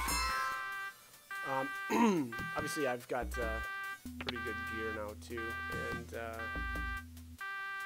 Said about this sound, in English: there's a really annoying alarm going off.